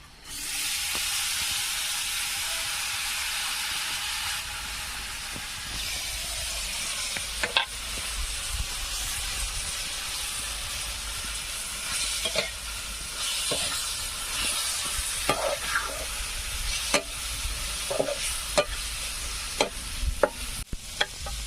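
Gondan mohar wild greens fry in a pan with a steady, loud sizzle and hiss throughout, broken by repeated scraping stirs and clicks of a spoon against the pan.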